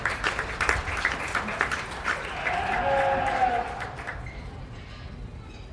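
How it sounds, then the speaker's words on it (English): An audience at a county fair sheep show claps for the exhibitors, a dense burst of applause that swells, then thins and fades toward the end. "give them all a great big round of applause"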